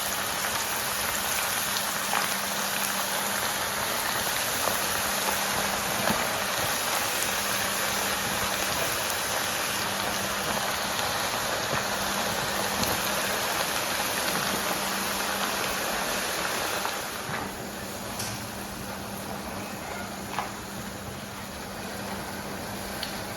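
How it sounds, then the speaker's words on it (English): A second batch of plantain chips fries in hot oil, giving a steady, dense crackling hiss that runs without a break and softens slightly toward the end. "We go ahead and add the second batch of our plantain chips to the oil."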